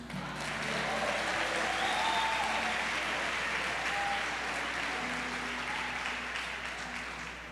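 A crowd at a religious gathering in Goiás, Brazil applauds steadily, a dense wash of clapping that holds for several seconds before fading slightly.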